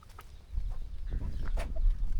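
Chickens cluck and call close by in a village courtyard on a Bangladeshi river char, where cattle, goats and ducks also roam; a short burst of fowl sounds over a low rumbling background.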